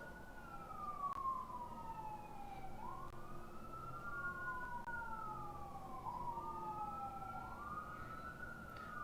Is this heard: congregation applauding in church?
no